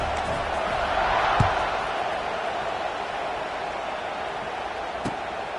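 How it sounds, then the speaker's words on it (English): Stadium crowd at a Washington vs Clemson college football game in the fourth quarter, a broad continuous roar held steady throughout, with a couple of sharp thuds poking through. "this crowd is buzzing after that last score"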